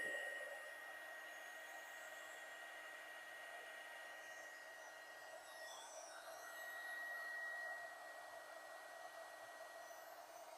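A heat gun blows a steady, faint, even hiss while shrinking heat shrink tubing over a soldered wire joint for scale model wiring, running alone for about ten seconds without speech.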